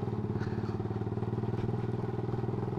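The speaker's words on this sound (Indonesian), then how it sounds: "Waduh, kasihan motornya Epa." A motorcycle rides along an unpaved dirt road, its engine putting out a close, steady, rapidly pulsing low chug with a faint rattle of the bike over rough ground.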